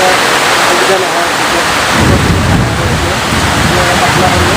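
Heavy rain pours down steadily in a storm, with a low rumble of thunder rolling in after a couple of seconds. It stays loud and continuous throughout.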